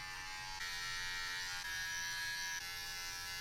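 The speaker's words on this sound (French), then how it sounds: "Dans un premier temps, j'aurais besoin de cette magnifique tondeuse." An electric beard clipper buzzes steadily and close up, a constant motor drone with slight shifts in pitch and loudness as it moves across the beard, with no voices.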